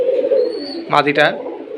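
Cream-colored Giribaz high-flyer pigeons of an old breed coo up close, a short throaty burst of two or three coos rising over a low background hum, with a person talking nearby.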